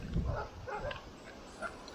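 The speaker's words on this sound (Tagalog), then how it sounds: "Naku, may aso." A dog on a mountain trail in Rizal gives a few short barks and yips close by, with hikers murmuring nearby.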